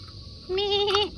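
A single goat bleat, wavering and nasal, about half a second long, close by over faint background noise.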